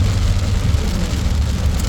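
Steady rain pours down, a dense, continuous hiss of drops hitting surfaces, fairly loud and unbroken.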